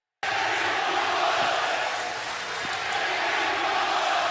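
Large arena crowd at a WWE Raw wrestling show, a dense sustained roar of many voices chanting together, loud and continuous with a slight dip midway.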